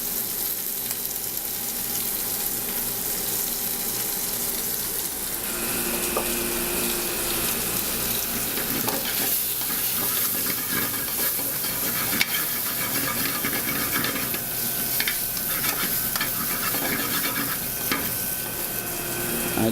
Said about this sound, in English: I add the turmeric and a little bit of cumin to the sausage and the shrimp.